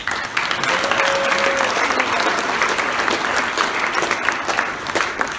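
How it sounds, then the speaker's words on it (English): A college awards night audience gives loud, continuous applause for the scholar-athlete nominees, dense clapping from a sizeable crowd without pause. "Let's give a big round of applause for our nominees."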